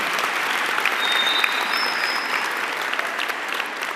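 A freshman academy kickoff crowd keeps up a full round of applause for a student speaker, steady dense clapping for four seconds with a brief whistle cutting through partway.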